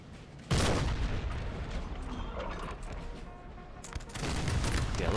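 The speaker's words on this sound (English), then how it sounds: "I think that's from the Russian guns here that are just set up. They're pounding away." Russian artillery and musket volleys in Napoleon Total War crackle as dense gunfire, with a sharp loud burst at the start and another near the end over a continuous rumbling battle din.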